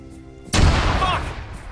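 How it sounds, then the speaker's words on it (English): An explosion in the ARMA 3 video game, a sudden loud boom that hits once and then rumbles and fades away, with a faint voice underneath. "Sergeant Adams, we just heard an explosion."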